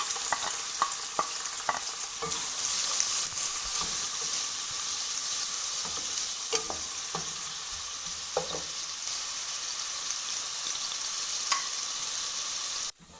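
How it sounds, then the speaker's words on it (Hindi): Chopped onions fry in half a cup of oil in a pan, a steady hissing sizzle with occasional scraping stirs and clinks of a spoon, close up with no voices. "अब इसमें एक चॉप किए हुए प्याज डालेंगे और इसे लाइट ब्राउन"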